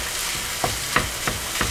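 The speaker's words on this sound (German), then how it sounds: "Und das tun wir jetzt zusammen schön brutzeln, schmoren, klein hacken." Minced meat fries in a pan, a steady close sizzle with several scraping stirs of a utensil at irregular intervals, no talking.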